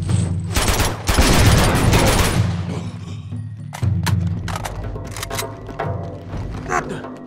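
Loud sustained gunfire in Uncharted 2, with a dense volley followed by scattered single shots and thuds. A voice calls out over the shooting.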